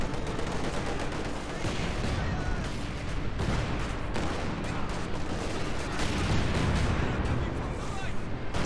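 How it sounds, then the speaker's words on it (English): Light artillery barrage in Company of Heroes 2 pounding a Maxim machine-gun position, a continuous dense roar of shell impacts and battlefield gunfire with no letup, heard at a steady distance. "Light artillery barrage will displace the Maxim."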